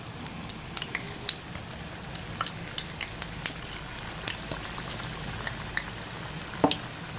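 Chicken pieces for homemade burgers frying in a pan, a steady close-up sizzle with scattered crackling pops and spits throughout and no talking.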